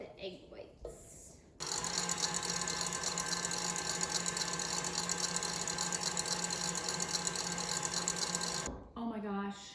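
Electric mixer whipping egg whites for a Yule log cake, a steady high buzzing whir running for about seven seconds, starting and stopping abruptly, with voices briefly before and after.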